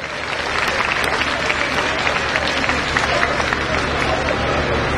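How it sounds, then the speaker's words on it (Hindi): An audience applauds children at a school annual day function, loud, dense clapping that builds quickly and holds steady, with faint crowd murmur beneath. "मैं आप सबसे भी कहूंगा कि एक बार उन बच्चों के लिए तालियां जरूर बजाएं।"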